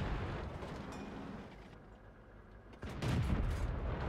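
A heavy tank gun fires in a tank battle video game, a booming blast that destroys an enemy vehicle, rising sharply out of low rumbling battle noise and holding as a loud roar.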